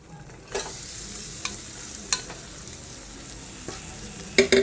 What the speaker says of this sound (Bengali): এবার তরকারি ডালগুলো আমি এর মধ্যে ঢেলে দেবো।